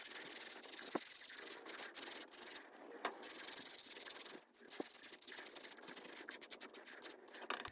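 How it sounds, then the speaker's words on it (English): A heavy-duty Weber grill brush scrubs metal grill grates with steady, close, bristly rubbing strokes in an irregular rhythm, separated by brief pauses and a few sharp scrapes. "we're going to take this heavy duty scrubber. This is a great brush by Weber."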